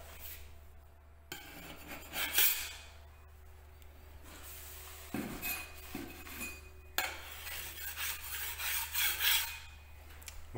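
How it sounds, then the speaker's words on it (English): Scraping bumps and nibs off new bare wood before priming, a rough rasping scrape in repeated bursts, close and fairly loud, with no talk. "Scrape it and it's gone."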